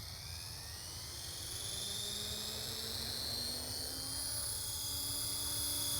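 A helicopter with a non-driven tail rotor performs a hovering autorotation about two feet off the ground, giving a steady rotor roar and high turbine whine that grow slightly louder throughout, with no voices.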